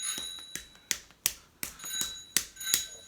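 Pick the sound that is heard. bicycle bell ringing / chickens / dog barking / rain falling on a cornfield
bicycle bell ringing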